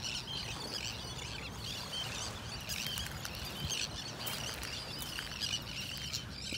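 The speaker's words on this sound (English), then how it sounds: "Listen to all those birds screeching." Birds screeching and chirping faintly on a beach in North Naples, Florida, with scattered calls over a steady wash of surf and wind noise in the early morning.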